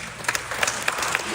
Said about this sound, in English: please hold applause